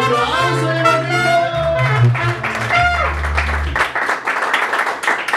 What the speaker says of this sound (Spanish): ¡Un aplauso, hermanito!